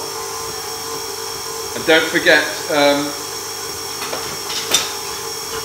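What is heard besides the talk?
electric mixer mixing butter and sugar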